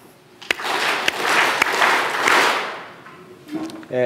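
A speaker clapping hands in front of an audience, sharp distinct claps followed by a swell of group applause and murmuring that fades before a voice starts speaking.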